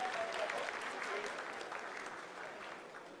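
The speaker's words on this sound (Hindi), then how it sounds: "आप तालियों के गड़गड़ाहट से सुन सकते हैं" Applause fills ISRO mission control during the Chandrayaan-3 lunar landing, a steady, fairly distant clapping from a crowd that fades slightly over a few seconds, with a voice speaking faintly beneath it.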